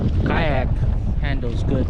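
Strong wind buffets the microphone during kayak fishing on open water, a steady broadband roar running through the whole clip, with a voice talking over it.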